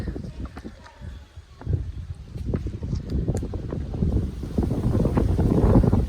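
Strong storm-like wind roars and buffets the microphone on a hilltop at Maruthwamala, gusting louder toward the end, while someone talks over it.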